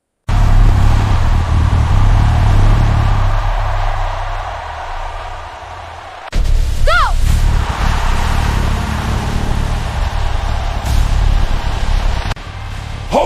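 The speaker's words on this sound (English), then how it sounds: "Avengers bike race is happening." Motorcycles race in an animated short, their engines a loud, steady roar that dips briefly before surging back at full strength, with no voices.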